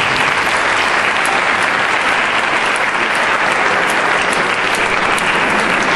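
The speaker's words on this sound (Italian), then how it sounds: "Applauso." Loud, dense applause from an audience at the presentation of the Volley Motula volleyball team for the 2011-2012 season, a steady, unbroken wash of clapping that fills the whole stretch without fading.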